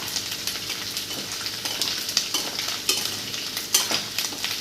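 Prawn curry fries in a pan with a dense, continuous sizzle, broken by repeated scraping stirs of a spoon, close and fairly loud throughout.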